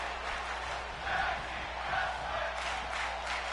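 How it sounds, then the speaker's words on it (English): A wrestling crowd at an indoor tag-team event chants in steady rhythmic waves, filling the space at a moderate distance without a break for the whole few seconds. "You can hear the crowd chanting tag team wrestling."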